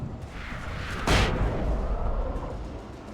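A flashbang goes off in Alan Wake as one loud, close boom over a dense rumbling game ambience that continues steadily after the blast, with no talking.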